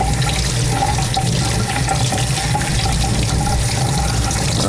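Tap water runs steadily and fairly loudly while freshwater aquarium equipment is rinsed under it during a tank water change, a continuous splashing rush with no talking.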